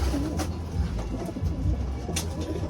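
A young pigeon coos softly in a cage, low throaty murmurs repeating over steady background noise, fairly close with no speech.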